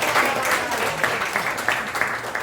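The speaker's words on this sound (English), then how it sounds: "Please give him a big round of applause." An audience at a corporate stage magic show breaks into applause, a steady wash of many clapping hands held at an even, moderately loud level throughout, with no distinct voices over it.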